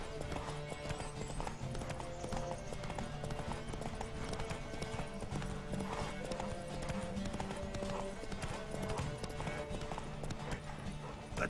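Horse hooves galloping in The Witcher 3, a steady clip-clop rhythm running throughout over game music and ambient sound, with brief snatches of a voice in the background.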